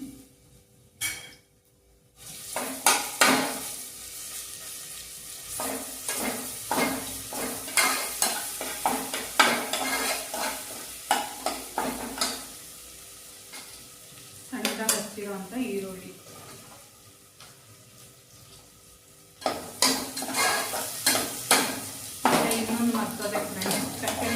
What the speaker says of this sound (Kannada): ಈಗ ಶುಂಠಿ ಬೆಳ್ಳುಳ್ಳಿ ಪೇಸ್ಟ್ ಹಾಕ್ತಿದ್ದೀನಿ